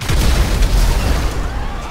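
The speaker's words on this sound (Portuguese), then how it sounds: "E pra finalizar o vídeo, uma explosãozinha aqui." Video game explosion in GTA 5 with a modded caravan, a loud, sustained booming rumble lasting about two seconds with no talk over it.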